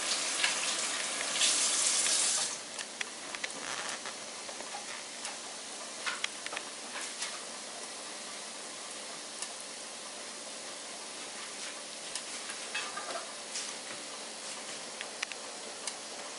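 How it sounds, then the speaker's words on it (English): Nigerian chin chin dough fries in hot oil in a pan, giving a steady, soft sizzle with scattered small pops and crackles throughout, with no talking. "That's how you know it's sizzling."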